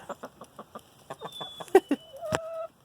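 Chickens in a coop clucking in short, close bursts, several birds giving quick soft clucks and a louder squawk near the end, with no talk over them.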